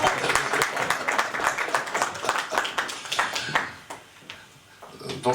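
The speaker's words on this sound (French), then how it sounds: "Les applaudissements." A hall audience at a Mouloud celebration evening at the Institut Français in Tlemcen claps for Madame Emmanuelle Raveau, a dense burst that dips briefly before swelling back at the end.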